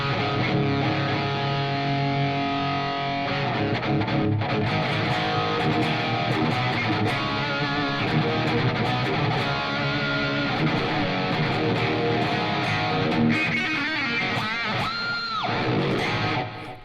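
An electric guitar played through a Positive Grid BIAS distortion pedal set to distortion, with sustained overdriven chords and riffs ringing steadily before a bend and a sudden cutoff at the end, no voices.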